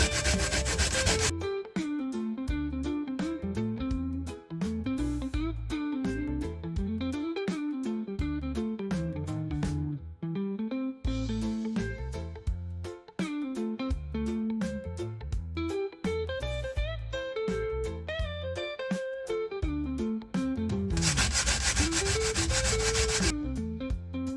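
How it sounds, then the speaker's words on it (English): Sweet potatoes grated by hand for Jamaican sweet potato pudding, a loud, continuous rhythmic rasping of strokes against the grater, close up and without talk. "journey along with me while I grate my potatoes"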